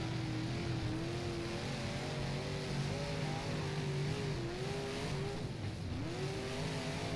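Engine of an IMCA modified race car in the rFactor racing game holding at the rev limiter on the straight at Volusia, a loud steady buzzing drone with wavering pitch that dips and climbs again near the end.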